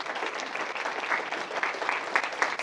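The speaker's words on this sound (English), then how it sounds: "Y'all give them a round of applause." An audience bursts into applause at an award presentation, dense sustained clapping from a sizeable crowd filling the whole stretch, with no voices on top.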